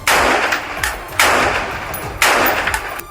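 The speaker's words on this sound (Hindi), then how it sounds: "खिड़की पर बंदूक ताने खड़े इस सैनिक ने कई राउंड फायरिंग की।" Several loud, sharp bursts of gunfire from an Israeli soldier firing rounds out of a building window at a Hamas position, three main volleys spaced about a second apart, each followed by a ringing decay.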